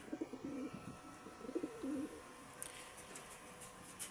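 Breeder pigeons in a loft cooing, low soft burbling coos in two bursts near the start, faint and close, followed by quiet rustles and small clicks.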